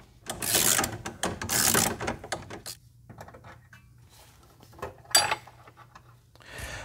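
Quarter-inch ratchet working an extremely tight bolt on a BMW E32 during a self-leveling accumulator replacement: quick bursts of close metallic clicking, then sparser ticks and a final short clatter, with no talk.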